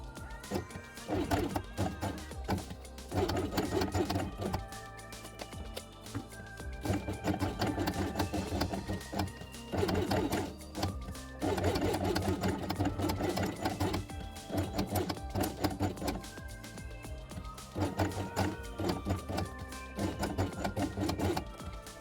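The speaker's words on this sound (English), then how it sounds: "Then sew both elements along the edge of the hole with blue thread." A sewing machine stitches fabric pieces together with blue thread for a quiet book, running in several bursts separated by brief pauses, with rapid clattering needle strokes close by.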